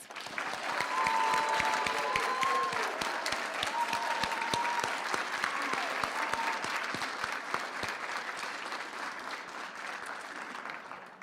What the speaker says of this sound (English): If we could all give our graduates one last applause.